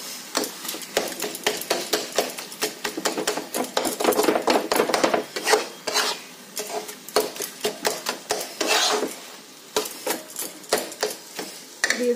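Spatula clatter and scraping against a pan while leafy greens are dry-fried with a pinch of sugar, a dense run of sharp, close knocks and scrapes repeating steadily with no talk.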